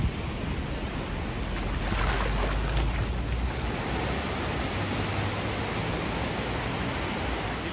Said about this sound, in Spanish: Mira cómo llegan las olas desde allá hasta casi en mitad de la playa.